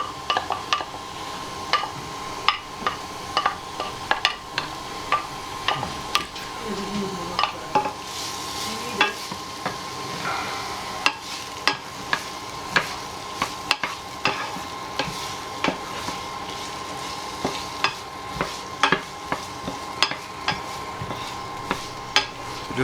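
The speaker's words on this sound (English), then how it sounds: "Just stir that around until the onions go soft" Chopped onion frying in a pan for beef samosas, a steady sizzle punctuated by frequent sharp clicks and scrapes of a utensil stirring against the pan, close and continuous.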